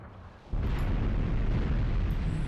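An artillery shell explodes in the World War II tactics game Graviteam Tactics, a sudden loud boom followed by a sustained heavy rumble that fills the rest of the moment.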